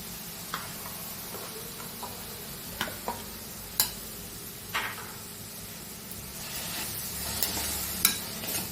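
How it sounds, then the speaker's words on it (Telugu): A potato stuffing mixture is stirred in a hot pan, with soft, steady sizzling under a series of distinct scraping strokes and taps from the spoon, close up and without speech. "ఒక 2 నిమిషాలు కలిపితే చాలండి ఇలాగా"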